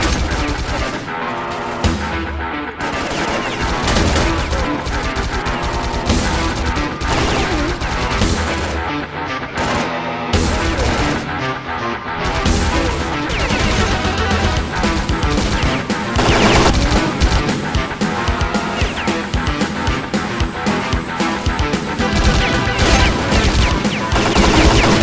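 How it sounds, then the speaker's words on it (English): A heavy machine gun fires in the video game S.T.A.L.K.E.R., loud, dense bursts of rapid shots that continue almost without pause, with booming impacts mixed in. "Heavy machine gun."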